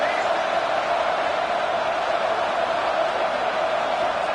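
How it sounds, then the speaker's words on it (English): A stadium crowd at a college football game involving the Razorbacks roars on third down, a dense, steady wall of cheering and noise that holds loud and unbroken throughout. "Here comes the noise. Is this crowd doing everything they can to help the defense bear down on third down?"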